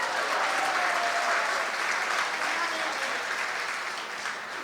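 Sustained audience applause at a Hindi poetry gathering (kavi sammelan) at an institute in Hapur, a broad, dense wash of clapping that slowly fades without talk.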